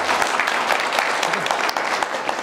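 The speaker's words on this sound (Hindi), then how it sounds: "एक बार तालियां बजनी चाहिए अपनी LLB।" Lecture hall audience breaking into steady, dense applause that fills the whole moment, loud and close with no talking over it.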